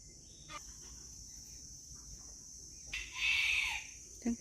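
Chickens and a rooster on a farm in Chanthaburi: quiet clucking and scattered fowl sounds, then one rooster crow rising clearly near the end, followed by a couple of short calls.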